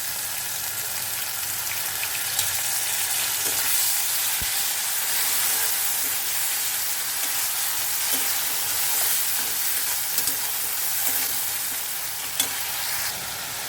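Onion and garlic paste frying in a pan with tomato, a continuous dense sizzle and hiss with occasional stirring clicks, steady and close throughout, no voices.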